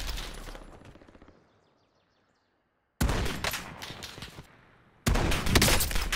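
Call of Duty Warzone battle royale gunfire comes in dense, loud automatic bursts, cutting off abruptly between volleys, with a quiet gap and faint chirps before the firing resumes.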